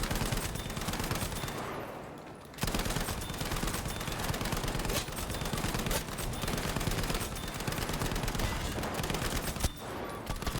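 A support-class light machine gun fires in the video game Battlefield 5: dense, loud automatic bursts that roar almost without pause, with a brief lull near the start and another near the end.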